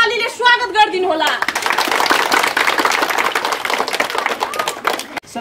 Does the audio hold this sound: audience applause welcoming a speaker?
yes